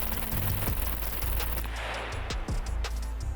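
Rifle fire aimed at a turret in the video game SCUM: dense, loud rapid shots overlapping into a continuous barrage, with a few sharper individual cracks standing out near the end.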